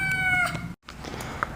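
A small kitten shut in a cage meows plaintively from an internet clip, one drawn-out high cry cut short by a brief silence, followed by faint background noise and a small chirp, close and fairly loud.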